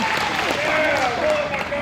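A short burst of crowd clapping at a Model A Ford tour gathering in Texas, voting by applause for a hard luck award, with voices and a whistle-like cheer riding over the steady clatter.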